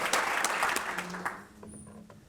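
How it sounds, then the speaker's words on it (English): Audience applause at a state senate breakfast forum greets a senator, a dense wash of clapping that fades after about a second and a half, leaving a quieter room with faint voices and a brief high tone. "So wonderful round of applause for our Senator Barry Feingold."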